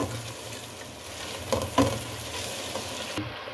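Masala stirred into stuffed eggplant in a frying pan: a low continuous sizzle with a couple of louder scraping stirs near the middle, close and without talk.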